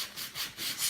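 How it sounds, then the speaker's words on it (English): Coarse 60 grit sandpaper rubbing back and forth over painted wood, close and rhythmic with about four scratchy strokes in under a second. "I'm going to get a little rougher sandpaper. I'm actually using, this one is like a 60 grit"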